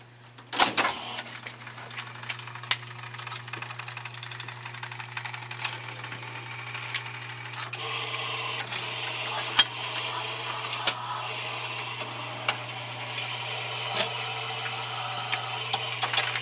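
Mechanism of a Wurlitzer 1500 jukebox cycling to play a 45 record: a steady motor hum under a run of mechanical clicks, clunks and rattles, with the sound changing partway through as the mechanism moves on, close up and without talk.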